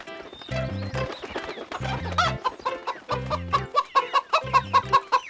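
A cartoon hen clucks with her chicks: clucking calls recur in bursts alongside repeated hoof-like clip-clop thumps, building toward a quick run of short, regular, fairly loud clucks at the end.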